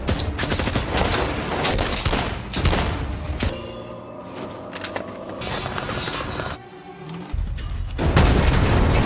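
Heavy gunfire from a police shootout in an action film, dense fusillade with booming shots and rapid bursts, loud and continuous with brief lulls, set against a cinematic soundtrack.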